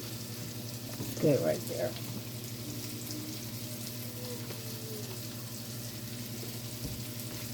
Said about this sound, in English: And we just continue to cook the onions and the noodles.